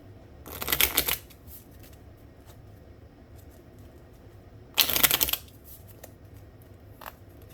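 Oracle cards being shuffled close up in two loud riffling bursts separated by a few seconds of quiet room tone, with a few faint soft clicks afterward.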